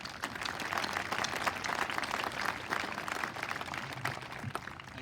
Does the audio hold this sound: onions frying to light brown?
no